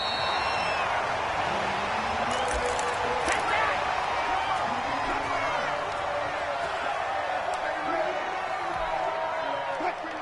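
Stadium crowd noise in a football video game, a constant dense roar with whoops and cheers, heard under a play-by-play commentator's voice throughout.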